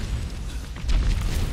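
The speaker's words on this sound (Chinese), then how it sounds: "我有麻药炸弹，我可以炸一波。" An anaesthetic bomb goes off in the video game Apex Legends, a deep booming burst that swells midway and rumbles on loudly without any talk.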